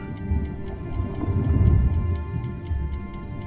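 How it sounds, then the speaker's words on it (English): A watch ticks steadily, about four crisp, light ticks per second, close and even over a low, murky rumbling background. "The watch kept ticking."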